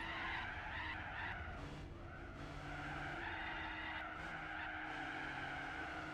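A car in the racing video game Gran Turismo 4 slides on its handbrake, with a continuous tire skid and squeal over engine drone that stays steady throughout and plays alone without voices.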